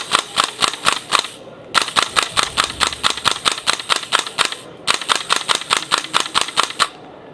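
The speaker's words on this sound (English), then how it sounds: "We're using blank ammunition in here." A rifle fires UTM blank training ammunition indoors in three rapid strings of sharp, loud cracks, each volley of about six to eight shots separated by short pauses.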